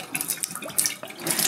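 Salt water gushes and splashes from a manual foot pump at the sink of a Caliber 40 LRC bluewater sailboat, a steady close wash of running water with small surges.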